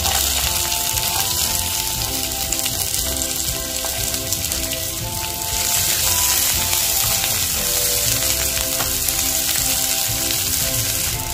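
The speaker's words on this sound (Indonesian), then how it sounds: "pertama kita tumis dulu dua bawang dan juga jahe" Shallots, garlic and ginger sautéing in a pan, an even, dense sizzle with a rain-like hiss that holds for over ten seconds, with no voices.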